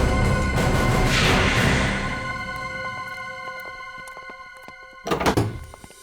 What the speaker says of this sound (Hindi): मैं तो बस एक कचरा बाहर रखने के लिए दरवाजा खोला था।